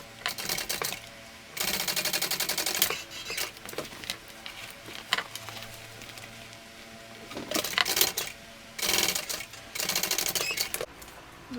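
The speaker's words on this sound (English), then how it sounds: "we're going to top stitch on either side" A sewing machine top-stitches along both sides of a pressed-open seam on a convertible tote, running in several short rapid bursts of stitching separated by quiet pauses.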